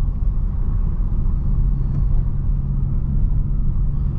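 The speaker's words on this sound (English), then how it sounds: "I want you guys to listen to the exhaust note." A BMW E92's exhaust hums in a low, steady drone while cruising at gentle speed, smooth and even with no revving.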